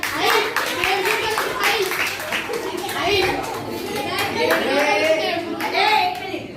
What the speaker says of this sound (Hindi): वेरी गुड, इसके लिए मैं तालियां बजाओ एक बार।